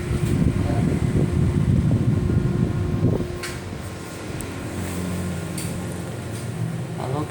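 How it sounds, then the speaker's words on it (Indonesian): Steady blowing hiss of air from a half-PK Panasonic room air conditioner, with fuller low rumble in the first three seconds, then a softer constant whoosh and a few light clicks. "anginnya kenceng ya guys, walaupun AC setengah PK."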